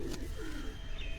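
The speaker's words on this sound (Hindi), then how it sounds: "ये मलिक इखलाक साहब एक और कबूतर है वो आपको दिखा रहे हैं।" A caged pigeon on a rooftop loft at a farmhouse coos in low, soft, rolling murmurs, steady and close throughout the short moment.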